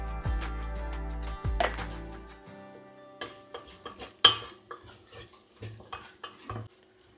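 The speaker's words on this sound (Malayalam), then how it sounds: "ഇതെല്ലാം കൂടെ നന്നായിട്ട് ഇളക്കി മിക്സ് ചെയ്ത് കൊടുക്കുക കേട്ടോ." Spice mixture with chili powder being stirred in a cooking pan, a spoon scraping and clinking against the metal in a quick irregular rhythm after a steady tone at the start.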